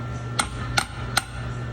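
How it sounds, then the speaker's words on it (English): A hammer's flat face tapping a CV boot clamp onto a car axle during a boot replacement: three sharp metallic taps at an even pace, moderately close, over a low steady hum, no talking. "I like to just go with the flat end of the hammer."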